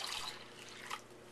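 Three cups of water poured into a sorrel drink preparation, a short soft splash and trickle close by, brief and faint.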